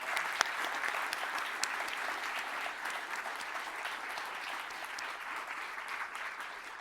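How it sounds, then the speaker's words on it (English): Sustained audience applause for presenters at a talk on carbon offsets, dense steady clapping from a crowd heard fairly distant and even throughout, without speech. "So I want you to join me in 2 rounds of applauses for both of our presenters today."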